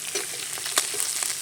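Small fish and a generous handful of onions sizzle steadily in hot oil in a pan, a dense, even crackle with a few sharper pops, close and alone.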